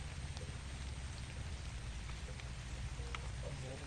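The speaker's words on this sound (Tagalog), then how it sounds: "Ulan na naman." Rain falls steadily outdoors at a rural plot, a faint, even patter with a low rumbling undertone and no voices.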